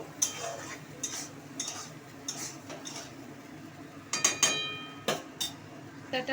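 Salt and turmeric are stirred into food in a pan with a utensil, making scattered scrapes and light metallic clinks at a quiet level over a faint background hum.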